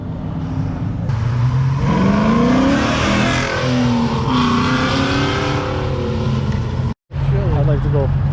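Classic muscle car cruising on Gratiot Avenue in Detroit, its engine loud and close, revving up and holding a throaty drone with a brief cut near the end, voices faintly underneath.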